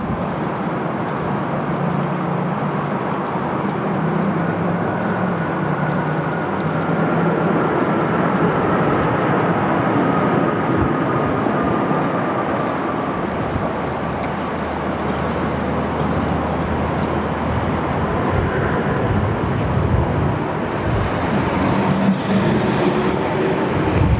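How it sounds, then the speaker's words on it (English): An Emirates A380 landing at Sydney Airport with only light reverse thrust, heard as a steady, loud, broad jet roar that holds evenly throughout with a faint rising whine, no voices. "No need for much reverse thrust today."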